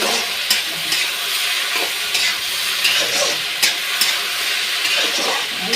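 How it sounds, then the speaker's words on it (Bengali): Small morola fish fry in a pan of chorchori curry, giving a loud, steady sizzle with close stirring scrapes and clinks throughout, no voices. "চচ্চড়ি এখন মাছ দেবে"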